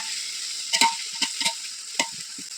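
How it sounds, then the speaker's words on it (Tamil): Onions stirred with ginger-garlic paste in a hot pan for veg biryani: a steady sizzle of frying under a few distinct scraping stirs of the spoon, close and clear, no talking. "நல்லா இஞ்சி பூண்டு பச்சை வடை பொறுத்து நல்லா வெங்காயத்தோடு நல்லா சேர்த்து நல்லா கலந்து கொடுத்துக்கோங்க"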